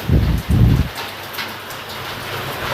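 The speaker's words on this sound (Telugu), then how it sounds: "వావ్ చిన్న వర్షమే మరీ పెద్దది కాదు చిన్న వర్షం అమ్మ మరీ పెద్దది కాదు" Light rain falls steadily in a soft, even hiss, with a couple of louder low rumbling bursts at the very start before the shower settles into a quiet, continuous patter.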